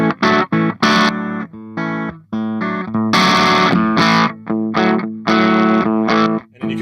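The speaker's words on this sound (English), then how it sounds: "That's a Clean RAT setting." Electric guitar played through a ProCo Deucetone RAT pedal on its Clean RAT setting, lightly driven chords and picked notes ringing out loud and close in uneven bursts with short gaps, no talking.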